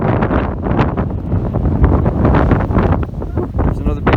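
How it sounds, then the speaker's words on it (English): A strong wind gust on a Uinta Mountains trail in Utah, a loud continuous buffeting roar against the microphone with rustling bursts, and a voice speaking faintly underneath. "There's another big gust."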